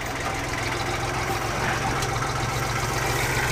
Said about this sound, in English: We got the tractor here